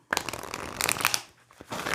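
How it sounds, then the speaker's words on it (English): A Goddess Oracle card deck is shuffled by hand close up, giving a quick papery riffle and flutter of cards that swells, pauses briefly, then resumes, with no talk over it. "I'm going to shuffle them."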